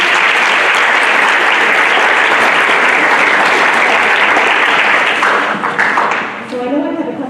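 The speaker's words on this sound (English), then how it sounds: "So students, would you please give your parents a round of applause?" A room full of students claps for their parents at a school gathering, a loud, even wash of applause that thins out near the end into scattered claps and a faint voice.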